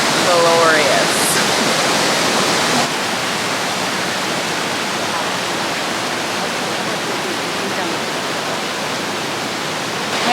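Multnomah Falls pours nearby with a loud, constant broadband rush of water that dominates throughout, a brief whistle-like tone near the start and no pauses in the roar.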